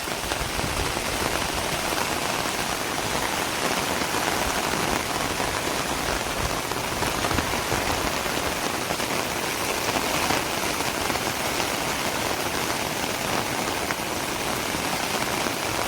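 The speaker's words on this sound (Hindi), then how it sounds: "वो कितनी खतरनाक लेवल से बारिश चल रही है" Heavy rain pours steadily across a forest in tiger country during a flood-level downpour, a dense, unbroken wash of drops drumming on surfaces at constant loudness throughout.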